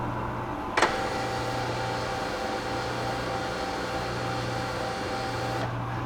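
A Cincinnati 36-inch shaper table lowers with a steady mechanical whir and low motor hum, close and even throughout, after a brief sharp click near the start.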